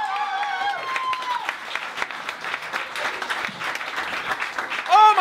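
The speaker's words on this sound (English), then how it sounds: "Clap your hands for Connor McGrath, everybody." Comedy club crowd at a bar and grill breaks into sustained applause for a stand-up comic, steady and dense throughout, with a tonal whistle-like sound early and a voice briefly rising at the very end.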